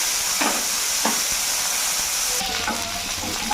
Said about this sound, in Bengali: ওই তেলের মধ্যে এবার বাকি মাংসগুলো ভেজে নেব।